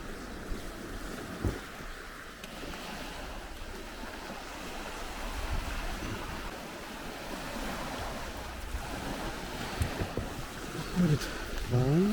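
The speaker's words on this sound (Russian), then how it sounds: "Уходит волна, все уходит." Sea waves wash back off the shore at Magadan, a steady broad rush of surf mixed with gusty wind buffeting the microphone, with a few louder splashes and knocks near the end.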